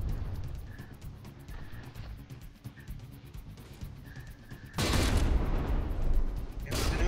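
Heavy weapon fire and impacts in From the Depths, a naval combat game, during a tournament battle between the Danubia and 3AM: a low rumbling barrage, quieter at first, then a loud sustained burst of blasts near the end with no speech.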